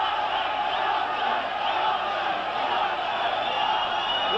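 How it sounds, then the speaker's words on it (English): A boxing crowd at a light heavyweight bout between Yaqui Lopez and Mike Rossman cheers and chants for Rossman, forming a continuous roar of voices with rising shouts and a commentator talking over it. "Rossman has a cheering section here. They keep yelling, Rossman, Rossman."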